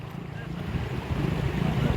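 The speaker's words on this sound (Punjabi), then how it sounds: "ਬਹੁਤ ਜ਼ਿਆਦਾ ਪਾਣੀ ਤੇਜ਼ ਚੱਲ ਰਿਹਾ" Loud, steady rushing floodwater roars close by near a flooded village, churning and growing slightly stronger, with wind buffeting the microphone.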